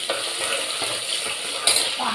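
Steady sizzling of chopped onions frying in a cooker pot with occasional scraping strokes of a spoon stirring, close and continuous.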